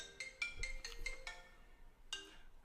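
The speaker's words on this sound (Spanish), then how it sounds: "Una disculpa, no puse en vibrador mi teléfono." A mobile phone ringtone plays a quick bright melodic phrase of chiming tones, pauses, then starts again, fairly faint during a talk on personal finance, with no speech over it.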